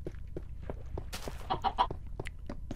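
A pet chicken clucking in Minecraft, a series of short close clucks in an irregular rhythm, with a brief louder rustle partway through.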